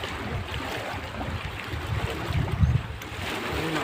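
Choppy sea slaps against a small fishing boat at sea, with a steady wash of waves and low rumbling water noise close by, no voices.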